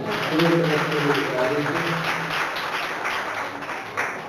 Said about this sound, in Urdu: زوردار تالی